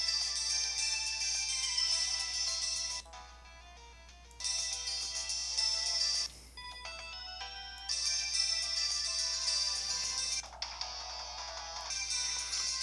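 A phone ringtone plays in the video game Steins;Gate, a bright electronic melody that repeats in bursts separated by brief quieter gaps, steady and clear without speech.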